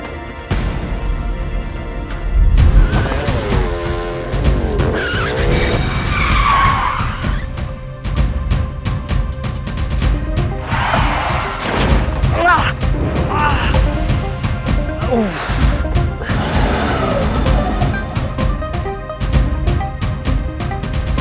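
A car skids with loud squealing tires and rumbling motion, close and sustained over about twenty seconds, leading into a crash on a road.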